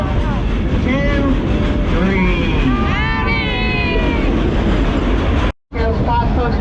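A Dollywood train ride rumbles along loudly and steadily, with squealing wheel tones and a continuous heavy roar filling the scene as people talk over it.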